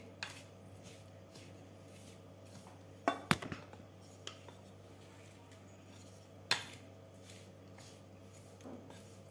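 Sesame sweet mixture being mixed with cardamom and dry ginger powder in a metal pot, with a few sharp clinks of a utensil against the rim over a steady low hum.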